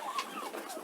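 Five-month-old farm turkeys give short, close clucking calls in a brief burst, with no voices.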